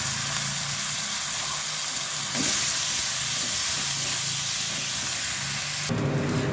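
A ground paste of ginger, garlic and onion fries in a pan for a fish curry, giving a steady loud hiss that grows slightly stronger midway and shifts near the end.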